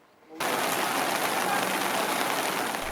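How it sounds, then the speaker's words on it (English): Heavy rain pours down in torrents at Gawu Babangida, headquarters of Gurara local government area in Niger State, Nigeria; a dense, steady roar of rain comes in abruptly after a brief quiet moment and stays loud throughout. "the rain comes down in torrents"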